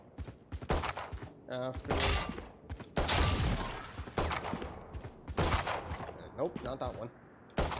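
Sharp gunshots in a shooter video game during counter-strafing practice ring out in short irregular bursts, close and loud, with someone talking over them.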